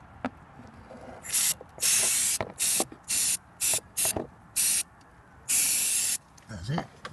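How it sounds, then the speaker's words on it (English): An aerosol can sprays grease onto a corroded car battery terminal in a series of about eight short, sharp hissing bursts of varying length, close and loud, separated by brief pauses. "Grease, you spray on it"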